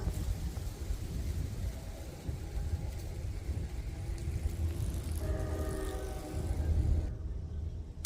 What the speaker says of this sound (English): I really hear the train.